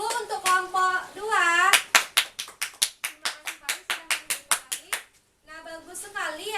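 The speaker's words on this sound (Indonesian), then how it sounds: "Dan tepuk tangan dulu untuk kelompok 2." A class of schoolchildren claps for a group after their presentation, with about a dozen sharp, evenly spaced claps that sound like unison rhythmic clapping. Close voices talk or chant before and after the claps.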